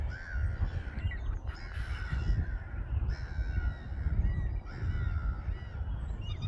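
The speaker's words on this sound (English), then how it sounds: "Some very noisy seagulls." Seagulls call repeatedly, harsh squawks rising over a steady low rumble of wind or surf outdoors.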